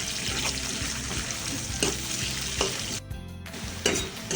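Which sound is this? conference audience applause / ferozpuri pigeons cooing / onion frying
onion frying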